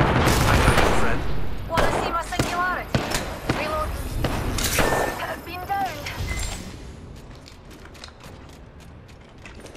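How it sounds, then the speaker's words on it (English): Rapid video game gunfire from Apex Legends, dense bursts of automatic shots and sharp cracks overlapping, with game voice callouts over the shooting, thinning toward the end. "The enemies are shooting at me."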